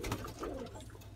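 Soft, low cooing of Punjabi and Madrasi pigeons in a cage, a brief rolling call close by.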